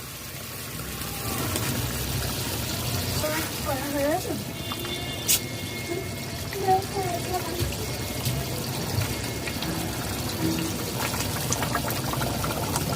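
Afghani malai kebab gravy made with hot water simmers in a covered pan, giving a soft, continuous bubbling with scattered small pops beneath steady talking.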